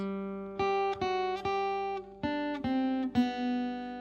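A plucked acoustic guitar plays a short single-note melody, each note struck cleanly and ringing briefly before the next, slow and even in pace.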